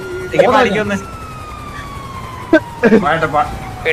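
A video-game ambulance siren wails with a slowly falling pitch while people talk over it in short bursts.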